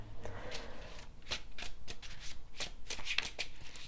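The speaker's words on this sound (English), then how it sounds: "I'm going to shuffle and then turn the deck over" A deck of tarot cards is shuffled by hand, a string of crisp riffling bursts and flicks in an uneven rhythm, close and fairly loud with no talking.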